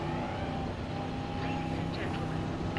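A helicopter in the video game Jurassic World Evolution, during a tornado, gives a steady, loud rotor and engine drone that holds constant throughout, with other game sounds layered over it.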